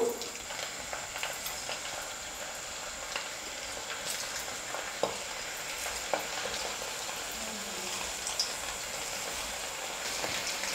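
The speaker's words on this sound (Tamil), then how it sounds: "மீடியம் ஃப்ளேமில் வச்சுட்டு இப்போ நம்ம சிக்கனை பொரிச்சு எடுத்துக்கணும்." Chicken pakoda pieces fry in hot oil in a kadai over a medium flame, a steady dense sizzle and crackle with occasional sharper pops, continuous and close throughout.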